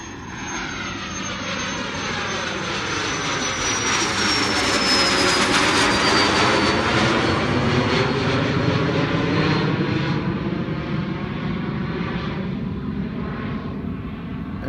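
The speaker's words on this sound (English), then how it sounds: "I just got here and here comes a jet. He's got his wheels up already." A jet airplane climbs away after an early-morning takeoff with its wheels already up and passes nearby: a loud, sustained roar that swells to a peak midway, with a falling pitch sweep as it goes by, then a slowly fading rumble.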